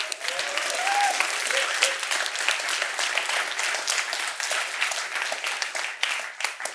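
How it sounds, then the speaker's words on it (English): Enthusiastic audience applause for the organisers of the Agile on the Beach conference, a continuous wash of many hands clapping that holds steady before tapering slightly near the end. "I think they deserve a massive round of applause."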